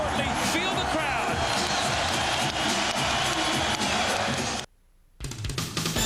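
A packed arena crowd at the 1999 NBA Finals between the San Antonio Spurs and New York Knicks roars continuously after a dunk, loud and sustained before cutting out abruptly.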